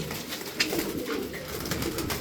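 A tumbler pigeon coos softly and close by, a low throaty murmur repeating over a couple of seconds, with no voices.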